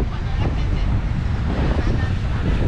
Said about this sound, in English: They look so pretty with the palm fronds waving in the wind.